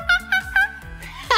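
A voice imitates a monkey with several short, rising hoots in quick succession, close and animated.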